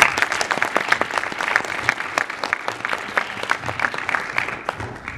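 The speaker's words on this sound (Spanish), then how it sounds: "Un aplauso para ella." Audience applause for voice actress Ana de Castro at a gaming event's dubbing-actor talk and Q&A: steady, dense clapping from a crowd, sustained throughout with sharp individual claps standing out.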